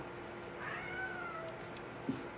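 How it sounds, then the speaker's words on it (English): A single faint, drawn-out cat meow rises and falls against a quiet room background, followed by a soft brief knock. "That's a cat."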